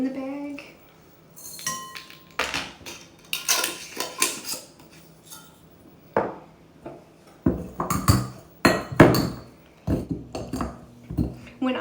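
Black peppercorns crushed in a bag for Metis meatball soup, heard as a run of crisp clinks, taps and crunching knocks in short bursts, close and moderately loud, with brief pauses between bouts.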